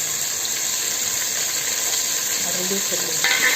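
Tomatoes sizzling and being stirred into sautéed onions with ginger-garlic paste in a pan for prawn biryani, a steady close frying hiss with soft stirring scrapes throughout.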